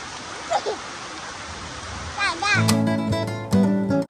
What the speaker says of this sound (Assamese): ওপৰৰ পৰাই বৰষুণ মাৰি আছে